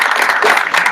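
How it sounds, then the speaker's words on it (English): An audience at a local Libertarian Party meetup gives a brief burst of applause, close and steady, with no break in the clapping. "Thank you for your applause"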